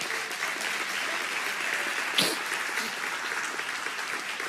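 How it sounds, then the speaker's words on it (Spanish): A church congregation claps during a sermon, an even, continuous wash of applause that holds steady throughout, with one brief sharper sound near the middle. "Dale un aplauso a él si lo recibe."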